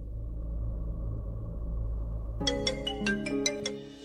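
A phone ringtone starts abruptly over a low rumbling background and plays a bright, repeating melodic pattern of short notes, close and clear, with no one answering.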